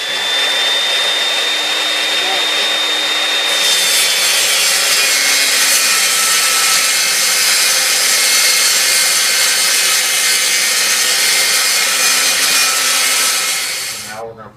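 A table saw rips a wooden board lengthwise against a tightened fence during a laundry room remodel, a loud continuous whining cut that steps up in intensity partway through and winds down at the end, with no talk.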